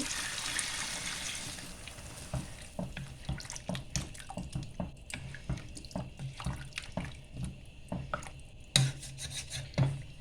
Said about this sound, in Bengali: তো জল দিয়ে দিচ্ছি।